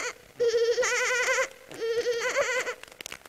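A child imitates a mother goat, voicing two loud, quavering bleats in quick succession, each nasal and trembling, with a short pause between them and quiet breathy sounds after.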